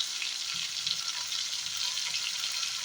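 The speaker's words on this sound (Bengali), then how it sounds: "দেখুন এটা ভাজা চলছে" Small fish fritters fry in a pan with a continuous, even hiss of hot oil, close and moderately loud, and no voices.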